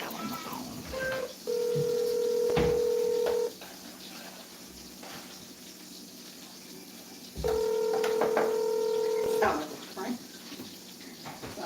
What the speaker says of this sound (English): Can you guys hear the ringing?